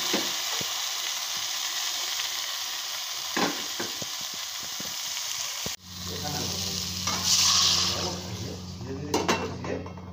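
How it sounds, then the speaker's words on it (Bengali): Marinated koi fish frying in a wok over a gas flame, a loud close sizzle that jumps sharply as the fish goes in, with light stirring clatter. "গ্যাসে একটা কড়াই বসিয়ে রেখেছি, আর মেখে রাখা কই মাছগুলো দিয়ে দেবো।"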